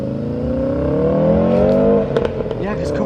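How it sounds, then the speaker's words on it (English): A Mazda Miata engine revs up loud and close, its pitch climbing steadily, then drops off on a shift with a few sharp pops and crackles from the exhaust. "Josh, I've never heard him pop when he shifts like that before."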